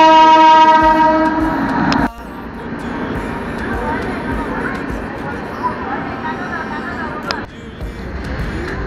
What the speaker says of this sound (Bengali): finally guys train per